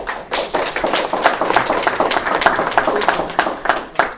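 Audience hands clapping at a LibreOffice Asia conference session, a dense, steady patter of many claps filling the whole stretch, fairly close and even in loudness.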